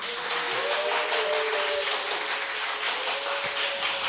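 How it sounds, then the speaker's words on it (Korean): Sustained, dense applause from a lecture audience at a Korean Bible study class on the Gospel of John, steady and fairly loud throughout with a faint tonal hum beneath. "되게 열렬히 박수를 해주시니까 힘이 납니다"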